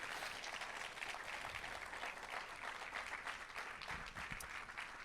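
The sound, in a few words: church congregation applause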